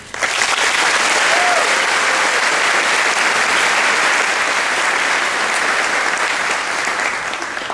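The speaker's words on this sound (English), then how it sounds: "Please, a round of applause for all of our outstanding teachers" Loud, sustained applause from a large crowd for teachers at a graduation ceremony, dense clapping filling the room for several seconds before tapering slightly at the end.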